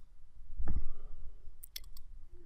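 Mouse clicks on a software button, heard as a few sharp, quick, close clicks over a low background hum, including a short cluster of rapid clicks, with no voices.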